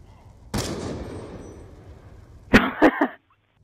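Call of Duty Black Ops 2 gunfire in a private match: one loud shot with a long decaying echo, then a quick burst of two or three sharp shots close together near the end.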